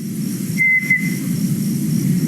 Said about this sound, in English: That two-note whistle, that's a call that we hear pretty regularly out there.